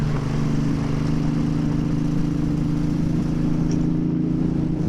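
A Moto Guzzi Leman 850 Mk2 motorcycle engine runs at a steady, loud, droning idle with a low, even throb that holds constant throughout, no talking.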